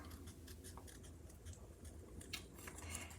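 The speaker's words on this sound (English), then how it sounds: "So we're going to take our snips and we are going to cut out our little pepper." Snips cut out a small paper pepper shape for a card, giving a series of faint, quick snipping and rustling sounds close by, with no talking.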